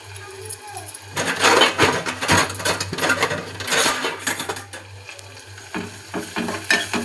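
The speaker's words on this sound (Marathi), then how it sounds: "मस्त असा कांदा भाजून घेऊया." Onion frying in oil crackles and sizzles loudly while a utensil scrapes and stirs it in uneven bursts, with a low steady hum underneath.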